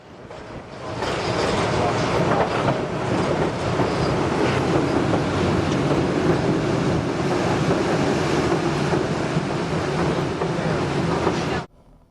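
The Skunk Train, a tourist excursion train, rumbles past with a steady, loud, broadband roar and rattle of rolling cars that holds for about ten seconds before cutting off abruptly.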